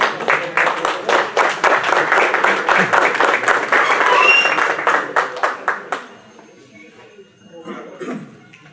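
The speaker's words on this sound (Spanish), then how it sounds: "La recibimos con un fuerte aplauso, por favor." Audience at a conference session claps to welcome a speaker, fairly loud rhythmic group clapping for about six seconds that then stops, followed by the speaker starting to talk.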